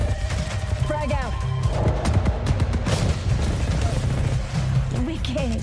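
In an Apex Legends match, a frag grenade goes off amid scattered gunfire bursts and booms, with character voices calling out over the combat.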